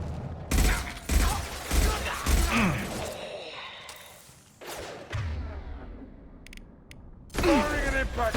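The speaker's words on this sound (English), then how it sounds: "Firing an impact shot!" Heavy gunfire from an impact shot in the Mass Effect 2 Eros mission, a run of loud close bursts that trail into mechanical creaks, with a final sharp volley near the end.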